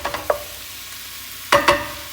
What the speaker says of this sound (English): we're waiting for the chicken to brown up